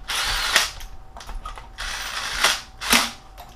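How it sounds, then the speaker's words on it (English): A cordless impact wrench, set low, runs bolts up by hand-tight during an engine rebuild on a 2006 Jeep Grand Cherokee Laredo 3.7L, with several loud rattling bursts and short pauses between them, close by with no talk. "This impact will barely tighten above hand tight the way it's set right now."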